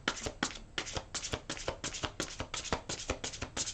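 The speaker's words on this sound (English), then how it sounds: "One more shuffle." Tarot cards being shuffled by hand, a quick run of crisp riffling bursts and taps repeating in an even rhythm, close and clear with no talk.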